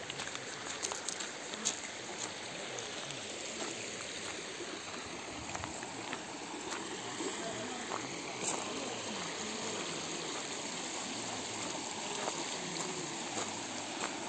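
Pumps pour water into a fish transport truck at a trout farm, producing a constant broad rushing wash that holds steady throughout.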